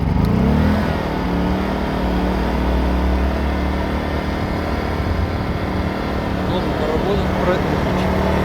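A Konner&Sohnen KS2100iS inverter generator runs close by with a steady, even engine hum and a constant harmonic drone that holds level throughout.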